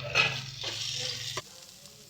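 Chopped tomato stirred into a hot pan for a prawn curry with taro, sizzling loudly with scraping stir strokes, then a clack near the end as the sizzle drops away.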